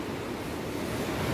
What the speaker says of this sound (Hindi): आवाज सुनो नदी की